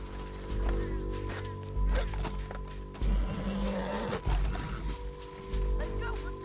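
Horse hooves clip-clop in Red Dead Redemption 2, a steady run of hoofbeats beneath loud, urgent shouting voices and game sounds.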